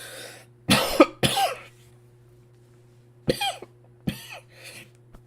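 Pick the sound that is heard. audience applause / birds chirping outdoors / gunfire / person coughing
person coughing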